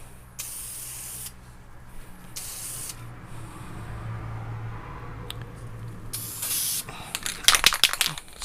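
Aerosol spray paint hisses in bursts over car bolts, clips and plates from a Jaguar XKR project, with several long sustained sprays followed by a cluster of short rapid puffs, close and fairly loud.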